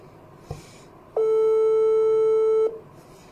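A telephone busy signal sounds on a callback attempt: a click, then one long steady tone lasting about a second and a half, clear and close.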